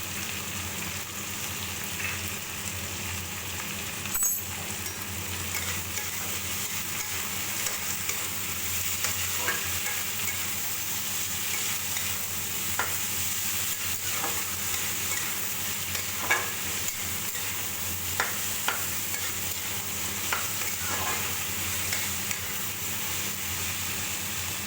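Onions with salt fry in a pan, giving a continuous soft sizzle with scattered crackles and occasional utensil taps.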